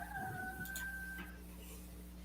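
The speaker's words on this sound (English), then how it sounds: "even hear the roosters in the background?" Roosters crowing faintly in the background of a backyard chicken yard, one drawn-out crow with a fainter second call, distant under a low steady hum.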